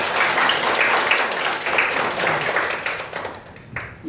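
Audience at a church debate forum applauds steadily for about four seconds as a pastor is introduced, dense clapping that thins slightly toward the end.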